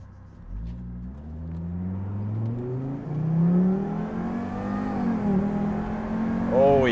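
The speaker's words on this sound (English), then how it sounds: "That exhaust sounds nice. It's not that loud, actually." A Volvo V70R with a new exhaust pulls away and accelerates, its engine note rising through the gears in a deep, moderately loud rumble heard from inside the car, with brief talk at the end.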